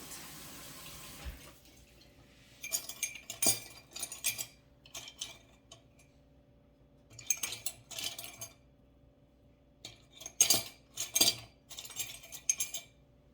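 A spoon adds almond extract to a cherry pie filling, making faint, sparse metallic clinks and taps against a bowl in a quiet kitchen.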